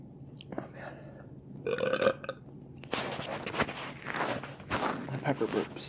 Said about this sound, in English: Pepper burps.